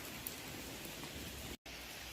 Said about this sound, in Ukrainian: А зараз дощ, і зараз все напувається